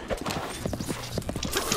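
A skeleton horse trotting in Zelda Breath of the Wild gives brisk, evenly spaced hoof clops up close, with a faint whinny and game sounds around them.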